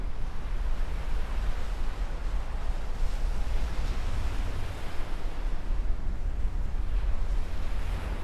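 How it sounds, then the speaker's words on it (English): Surf washing onto a beach, a steady, continuous roar of breaking waves that holds at an even level throughout, with no voices. "That's a beautiful beach, isn't it?"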